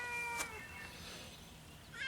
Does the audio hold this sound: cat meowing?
yes